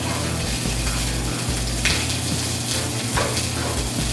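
Sausages for tacos frying in hot cooking oil, a steady close crackling sizzle with scattered pops and brief scraping as they are turned, heard alone.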